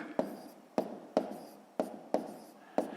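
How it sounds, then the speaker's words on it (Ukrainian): Pen strokes of handwritten numbers being jotted down for column multiplication, a series of six short, close scratching taps in a steady rhythm, with no voice over them. "Давайте я тут запишу"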